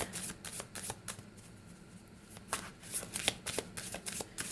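Chakra intuition oracle cards are shuffled by hand in quick, close riffling bursts, with a brief pause midway before the papery flutters resume more busily.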